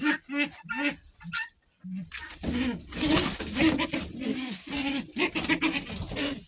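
Pigeons coo and flutter close by, their low throaty calls repeating, while people talk over them.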